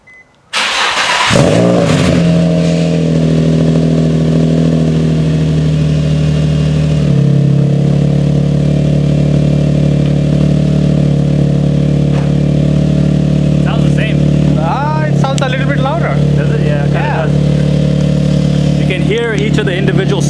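A Nissan 350Z fitted with Nismo headers cranks and fires, then settles into a loud, steady close-up idle with a slight shift in tone partway through, while a person talks briefly near the end.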